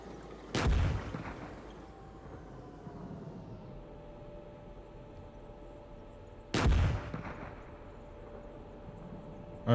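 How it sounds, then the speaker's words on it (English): Two loud, booming cannon or gunshot blasts from the PC tank game Gunner, Heat, PC!, spaced several seconds apart, each with a short rumbling tail over quiet background hum. "I heard a gunshot or cannon."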